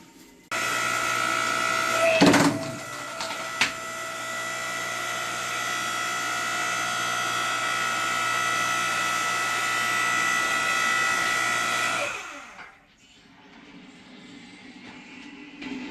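Harbor Freight 5-ton electric log splitter running, a steady electric motor hum with a tonal whine and a couple of sharp knocks early on, cutting off abruptly near the end before a faint rustle.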